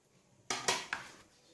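A few quick clinks of a utensil against a bowl ring out as flour is stirred together with baking powder, salt and vanilla, three short close taps in a quiet kitchen.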